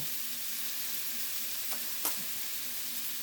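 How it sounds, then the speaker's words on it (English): Ground meat for a bacon cheeseburger soup fries in a pan with a steady, quiet sizzle, broken by a couple of soft scraping stirs. "And just keep stir frying"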